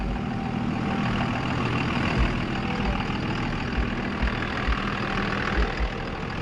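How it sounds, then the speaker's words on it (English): A big diesel truck engine idles steadily nearby, a constant low rumble with faint periodic knocks and no talk. "Hear that big diesel in here"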